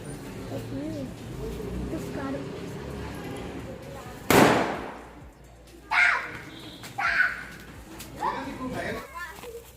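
Firecrackers go off outdoors, one sharp loud bang followed by several smaller pops and crackles spaced a second or two apart, with children's voices and chatter around them.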